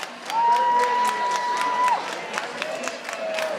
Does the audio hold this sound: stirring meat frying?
no